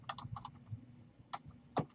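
Quiet clusters of computer keyboard keystrokes typed in short bursts with pauses between, ending in a sharper key press, close and soft.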